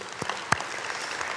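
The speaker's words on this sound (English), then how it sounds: "I think we should give them a round of applause." A round of applause from an audience at a university event, steady brisk clapping with a few sharper individual claps standing out close by.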